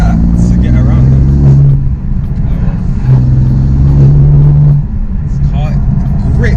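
BMW M4 engine pulling steadily while driving, a loud low drone that rises in pitch in two stretches, heard from inside the cabin beneath continuous conversation.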